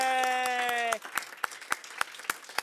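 A small group of people claps, a few sparse, fairly regular claps that follow a brief sustained tone at the start, in a workshop room.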